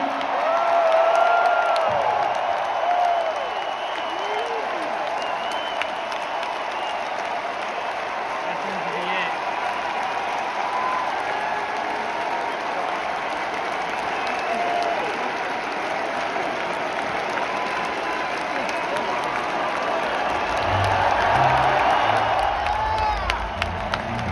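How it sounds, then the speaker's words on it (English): Celtics fans fill an arena with sustained applause and cheering at Kevin Garnett's number 5 jersey retirement ceremony, a dense roar of clapping and whoops that swells at the start and end, with an announcer's voice over it. "Celtics fans, how about one final applause for number 5, Kevin"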